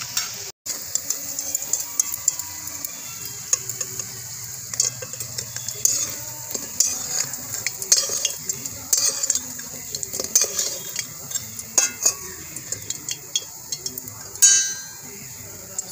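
Fried puffed rice pakoras are lifted from hot oil in a pan, with a steady sizzle under frequent light scraping and clinks of a slotted spoon and a brief louder burst near the end.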